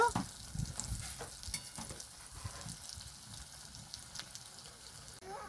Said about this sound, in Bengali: উল্টে পাল্টে ভালো করে ভেজে নেব।